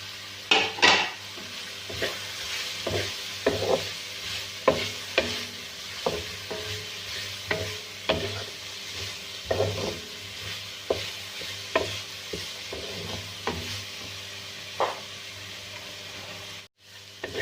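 Vegetables and cabbage being stir-fried in a pan for Pakistani-style chicken macaroni pasta, with a spoon repeatedly scraping and clanking against the pan in a steady rhythm over a continuous soft sizzle, close and clear.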